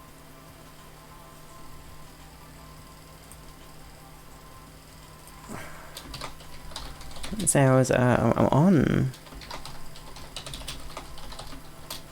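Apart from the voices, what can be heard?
typing on a computer keyboard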